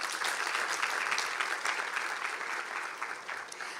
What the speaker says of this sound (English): I want a round of applause for all of us.